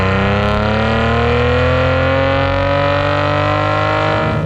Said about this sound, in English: It's the engine sound that the car makes.